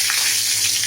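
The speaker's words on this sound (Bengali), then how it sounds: "এখন দিয়ে দিলাম তেজপাতা" A bay leaf hits hot oil in a pan while a vegetarian chhana curry is being cooked, giving a loud, steady, close sizzle that fills the whole moment without any voices.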